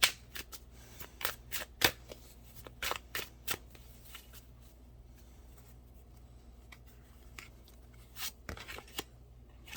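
Tarot cards being shuffled and drawn during a reading, a run of sharp close riffling snaps and flicks in bursts, with quieter stretches between and no talking.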